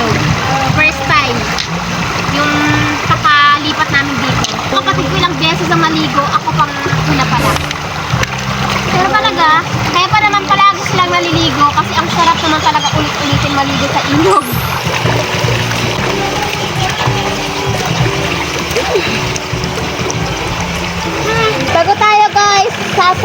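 Continuous splashing and sloshing of cold river water close by as people bathe, with people talking over it throughout.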